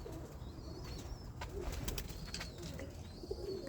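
Soft pigeon cooing from roller pigeons in a loft, low and muffled, repeating faintly against a quiet background with occasional light chirps.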